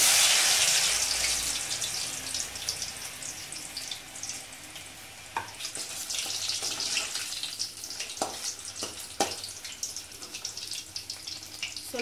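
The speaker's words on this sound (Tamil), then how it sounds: "இப்போ நான் இந்த கிழங்கை போட்டு பொறிச்சு எடுக்க போகிறேன்." Pieces of karunai kizhangu (elephant foot yam) frying in hot oil give a loud, hissing sizzle that settles into steady bubbling, broken by scattered clicks and scrapes as the pieces are stirred.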